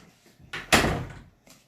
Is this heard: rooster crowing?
no